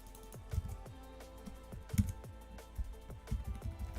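Keystrokes on a computer keyboard, a run of close, irregular taps with a few louder hits, alone with no talking.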